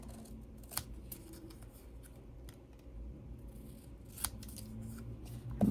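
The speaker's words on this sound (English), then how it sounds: "I'm just going to cut a little bit off every side" Scissors snipping through thin packaging card, a run of small crisp cuts over a low background rumble, close and fairly quiet with a louder snip at the end.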